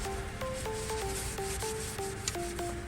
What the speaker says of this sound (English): Wipe the remaining oil